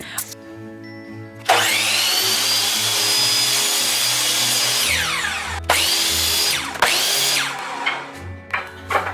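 Power saw cutting 1x2 inch lumber into 25-inch pieces for a hexagonal teepee-style base: a loud whining cut starts after a quiet hum, followed by two shorter cuts spinning down near the end, close and with no talking.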